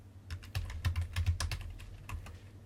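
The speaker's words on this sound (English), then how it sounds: "Okay, and we'll just type, I am responding to your advertisement" Fingers type on a computer keyboard, a quick irregular run of crisp clicks and taps close by, heard alone without any talk.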